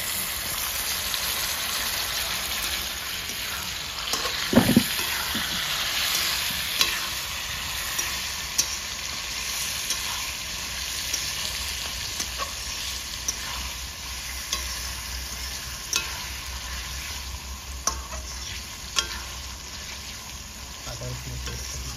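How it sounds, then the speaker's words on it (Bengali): Three large chopped tomatoes frying in a pan give a steady close sizzle, with occasional spoon knocks and scrapes as they are stirred, no voices. "কাটা টমেটোগুলো দিয়ে দেবো।"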